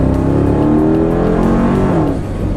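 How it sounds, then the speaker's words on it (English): A Mercedes R63 AMG's M156 V8 engine revs hard and climbs steadily in pitch as the car accelerates, a deep throaty roar building toward redline, no talking. "The M156 engine is very entertaining. It just keeps pulling to redline."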